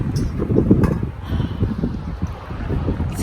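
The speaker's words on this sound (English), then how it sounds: "It's getting really windy here at the end." Wind gusts buffet the microphone on a hiking trail in Glacier National Park, a rough, close rumble that swells and fades in bursts throughout.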